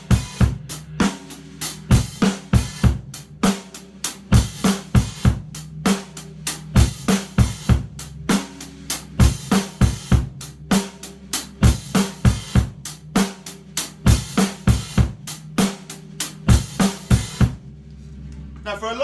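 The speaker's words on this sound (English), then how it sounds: "it's the same groove with an open close hi-hat, which opens on the and of 3 and closes on 4" A rock drum kit plays a song's verse groove, with steady kick and snare hits and an open-close hi-hat that splashes open and chokes shut, close and loud throughout before ending abruptly.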